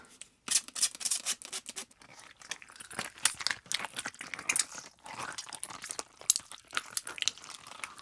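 Wet, sticky squelching and crunching from wet rubber shoe insoles being squeezed and twisted as gore foley, irregular bursts close to the microphone, no voices.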